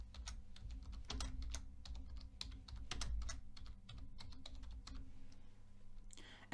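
Site name typed on a computer keyboard, a quick irregular run of soft, close key clicks with short pauses, faint and without speech.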